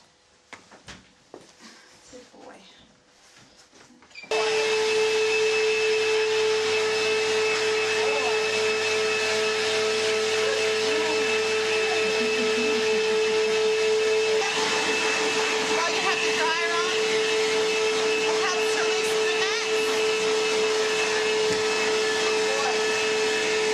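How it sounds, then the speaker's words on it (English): A pet grooming dryer blasts air at a Miniature Schnauzer, starting abruptly after a few quiet seconds of rustling, then blowing loudly and steadily with a constant whine until the end. "Just don't like the dryer on their face, period."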